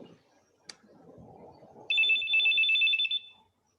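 A telephone rings in a classroom listening-exercise recording, a steady trilling bell lasting about a second and a half, preceded by faint low rumbling and a single click.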